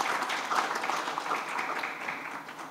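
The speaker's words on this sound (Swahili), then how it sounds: "Makofi kwa Mheshimiwa Rais tafadhali." An audience claps for the President at a sports-related government event, a dense, steady wash of applause that stays fairly loud before slowly tapering off.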